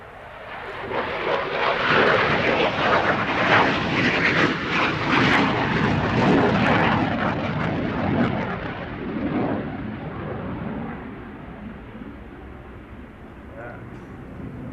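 A Belgian F-16AM fighter jet passes at an air show with a broad, roaring jet rumble that swells loud, then gradually fades as it moves away.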